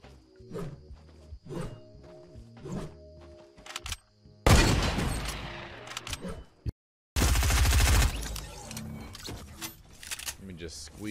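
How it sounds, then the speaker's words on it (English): Automatic gunfire in the Fortnite video game, fired through a railing: two long, loud bursts of rapid shots follow quieter clicks and effects, with a short silent gap between the bursts. "Squeeze those bullets right through the railing."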